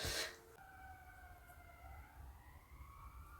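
Emergency vehicle sirens wail outdoors with steady, sliding tones after a brief loud burst at the start, fairly distant and sustained throughout.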